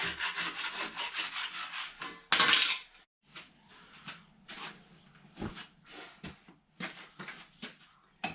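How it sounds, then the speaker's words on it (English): Scraper rasping mud off the bottoms of boat stand bases, a steady run of close gritty strokes, one sharp loud scrape, then scattered shorter scrapes and knocks. "Got the scraper. There's just a bit of mud on these bottom of these bases."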